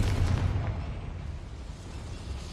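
A Confringo fire spell detonates in Hogwarts Legacy, a deep booming burst up front that rolls off into a fading rumble, with no talk over it.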